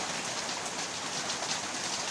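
Steady, dense hiss of rain falling during a typhoon, a continuous even wash with no breaks or voices, moderately distant and uniform throughout.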